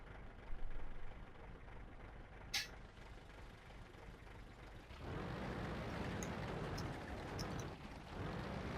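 A tank engine in the video game World of Tanks, a low, rumbling drone with a sharp hiss partway through. The rumble swells into a heavier, louder roar after the halfway point.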